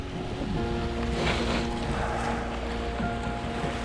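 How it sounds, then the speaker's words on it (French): Sailboat crossing the southern Atlantic on a calm sea in light wind, with a steady wash of water along the hull and soft wind noise, continuous and even throughout with no talk. "Voilà, la mer est très calme."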